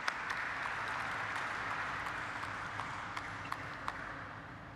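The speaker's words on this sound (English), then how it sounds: "Let's have a huge round of applause for sir," A crowd at a stock listing ceremony claps steadily in a hall, a dense even wash of applause with a few sharper pings standing out, no voices over it.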